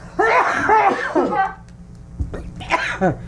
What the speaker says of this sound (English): so we're both coughing now